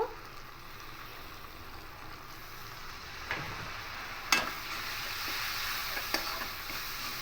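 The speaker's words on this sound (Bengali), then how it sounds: "এই মশলাগুলো খুব ভালো করে কষিয়ে নেবো" Ground cumin, chilli and turmeric with a splash of water sautéing in a pan for lau chingri, bottle gourd with prawns: a soft, steady sizzle broken by a few sharp clicks of stirring against the pan.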